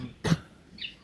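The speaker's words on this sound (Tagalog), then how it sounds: "Tigas ng ubo." A single harsh, raspy cough, close and sudden, followed by quiet.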